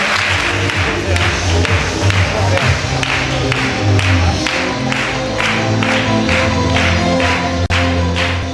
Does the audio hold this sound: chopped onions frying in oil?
no